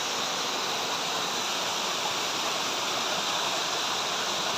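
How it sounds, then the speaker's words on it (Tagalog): A small roadside waterfall in hilly country between Tagaytay and Nasugbu, running muddy after fresh rain, pours with a steady, unbroken rush of broadband water noise, close and loud, with no voices over it. "nakakita tayo ng isang mini waterfall sa tabi ng kalsada"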